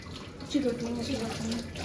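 Cold water splashes and pours steadily onto steamed rice, a close, continuous gush with a faint voice underneath.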